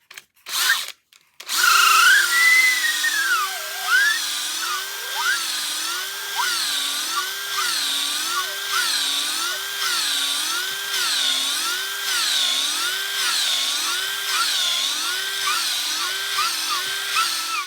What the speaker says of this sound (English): We just got done reaming out the inside of the grips.